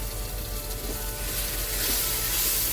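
Tomato paste sizzles in a hot pan with raw ginger and garlic for a beef shank korma sauce, a steady, close, broadband frying hiss that holds throughout with no talking.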